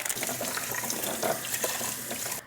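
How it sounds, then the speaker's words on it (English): A betta tank's aquarium filter is rinsed under a running tap, giving a steady, close splash of flowing water with no pauses for the whole short moment. "before we put it straight in, we have to obviously rinse out the filter"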